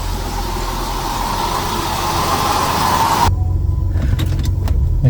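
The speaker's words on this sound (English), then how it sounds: "Still running a little bit rough on idle." A Jaguar Series 3 V12 engine runs rough at idle: a loud broadband rush gives way to a steady, low, slightly uneven engine hum, close by and without talk.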